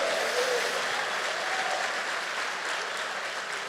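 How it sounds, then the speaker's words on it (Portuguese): A church congregation at a prayer-week service claps in sustained, even applause that fills the whole stretch at moderate loudness, with a sharp knock right at the close. "Você pode levantar a mão e dar uma salva de palmas"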